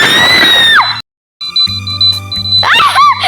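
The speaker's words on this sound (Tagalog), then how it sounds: "Grabe sigaw ko." While playing Roblox Pass the Bomb, a player gives a loud, close scream that slides downward in pitch, followed after a brief gap by steady electronic game tones and chimes.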